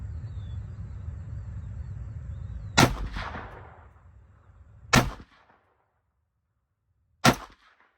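Three Stag Arms 5.56 rifle shots with a 1-in-8 twist barrel during a 100-yard accuracy test, each a sharp loud crack spaced a couple of seconds apart over faint background noise.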